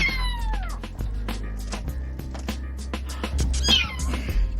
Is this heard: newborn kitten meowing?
yes